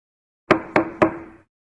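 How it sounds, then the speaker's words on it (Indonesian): Three sharp knocks on a door in quick, even succession, close and crisp, each with a brief woody ring, alone in an otherwise silent room. "Sebuah ketukan menghentikan pikiran-pikirannya."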